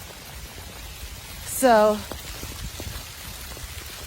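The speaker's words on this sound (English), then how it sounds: "I'm out here in the rain." Rain falling outdoors makes a steady soft hiss throughout, and a voice speaks briefly partway through.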